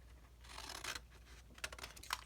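Scissors snip out the corners of a piece of material at close range, a few soft cutting and rubbing strokes with brief sharper snips, quiet and with no talking.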